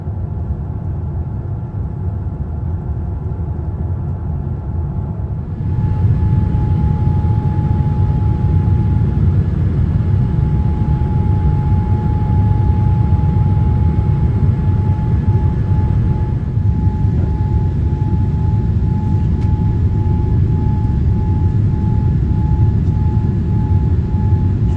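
Cabin of a Royal Brunei Boeing 787-8 taking off from Hong Kong in cloudy, rainy weather: a steady, loud, low roar fills the cabin and swells noticeably after a few seconds, then holds constant with no talking.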